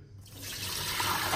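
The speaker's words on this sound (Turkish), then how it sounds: "Şimdi suyunu süzüyorum." Water drained off soaked raw potato pieces through a strainer into a kitchen sink, a steady close splashing pour that swells from quiet to full within a second.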